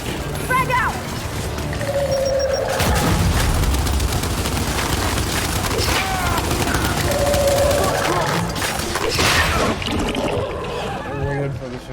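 Gunfire rattles almost continuously through a Gears 5 firefight, with a grenade going off amid the chaos and dense battle noise; shouted voices come and go over the din.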